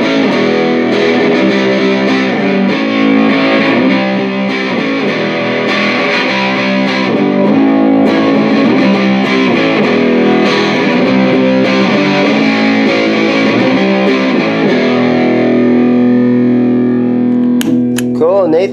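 An electric guitar runs through a budget distortion pedal, playing loud, fuzzy chords and riffs for most of the passage before settling into a held, ringing note near the end.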